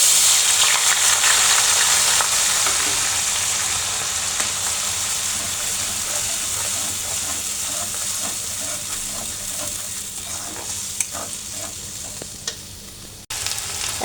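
Ginger, garlic and onion paste fries in oil left from frying fish, giving a loud, dense sizzling hiss close by that slowly eases, with occasional stirring clicks near the end.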